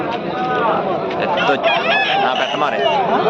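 Country chickens crow and cluck at the Nallapadu weekly livestock market, where a rooster's drawn-out crow rises over constant crowd chatter and nearby talking.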